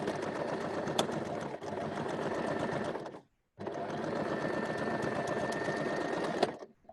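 A sewing machine runs steadily at close range with a rapid mechanical whir, pausing briefly once, then stitching on again.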